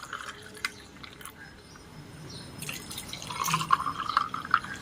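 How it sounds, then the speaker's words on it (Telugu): Grape and beetroot juice is poured into a glass over ice in a home kitchen, with soft splashing and trickling that builds toward the end, plus light clinks of ice against the glass, fairly close and quiet. "జ్యూస్ వేసుకుందాం."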